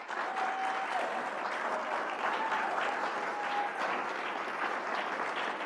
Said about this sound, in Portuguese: E devemos aplaudir, Alex.